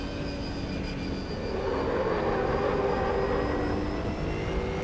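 Race car engine in the Assetto Corsa racing game, a steady, loud droning roar with rising tonal whine, continuous throughout with no talk over it.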